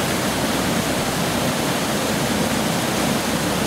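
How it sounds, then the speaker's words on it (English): High floodwater pours into a stand of trees, heard as a dense, steady rushing roar that stays loud and unbroken throughout, with no voices. "a close-up that I viewed from on the swinging bridge of the water going into the trees"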